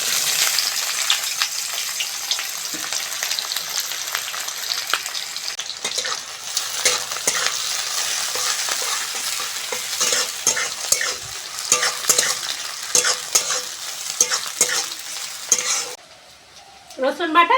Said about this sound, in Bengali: আর একটু সর্ষের তেল দিয়ে দেবো, কুচনো পেঁয়াজ দিয়ে দেবো